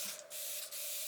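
Hairspray hisses onto a pin curl in two quick close bursts, each one a sharp airy spray of aerosol mist with a brief pause between them and no talking.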